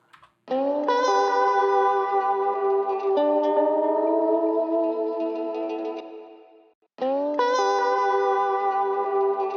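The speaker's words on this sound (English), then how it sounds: "create a mono reverb and then pan it opposite to the opposite side" Sustained electric guitar chords ring out with a mono reverb panned to the opposite side trailing behind them, fading out before the chord is struck again.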